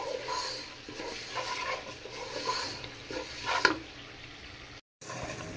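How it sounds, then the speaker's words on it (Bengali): Rice grains with salt are stirred and fried in a little ghee, a soft dry sizzle with scraping and rustling of the grains against the pan, faint and close, a brief silent gap near the end. "এখন আমি চালটাকে একদম ঘিয়ের সাথে ভাজা ভাজা করে নিব"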